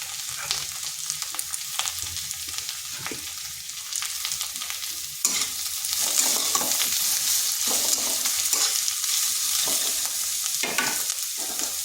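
Chopped carrot, onion and green chili fry and sizzle in a pan with steady crackling, while a utensil stirs through with scraping strokes at close range; no voices.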